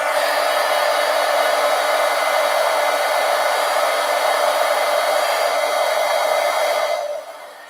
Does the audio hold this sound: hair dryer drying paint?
yes